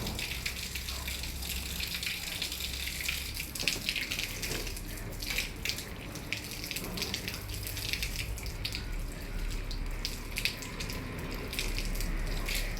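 Water pours steadily onto garden plants in a continuous gushing, splashing stream, fairly faint and unbroken throughout, with no talking.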